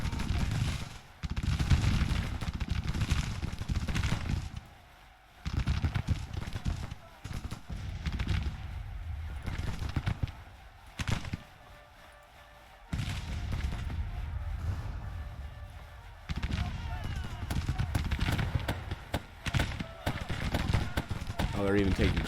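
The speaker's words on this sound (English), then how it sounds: "Oh, they're even taking coffee mill gunfire." Grand Tactician battle: coffee mill rapid-fire guns and musketry crackle in dense, continuous bursts with brief lulls, loud and layered throughout, while a voice talks over the fighting.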